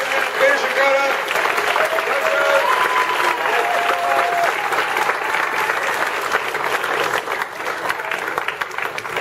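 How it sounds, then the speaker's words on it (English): Sustained applause from a convention panel audience for the panelists of a Falling Skies session, dense and steady throughout, with cheering voices mixed in and no clear speech on top. "big round of applause, please, for our panelists"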